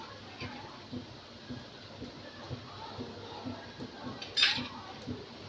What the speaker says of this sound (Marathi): आधी आपण या कोळंबीला हळद आणि मीठ लावून घेऊया।